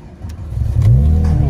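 A Porsche 996 GT3 engine fires up close by, turning over and rising into a rough, swelling rev that holds loud and steady.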